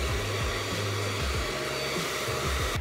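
A hair dryer blows steadily on freshly bleached hair, a loud continuous whir with the motor pitch wavering as the dryer moves, close up with no talking.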